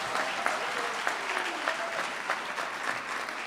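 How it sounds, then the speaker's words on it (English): An orientation audience claps for an honoree at a university vice-chancellor's address, a sustained, fairly even round of applause with faint voices and a few whoops mixed in. "Let's clap for him."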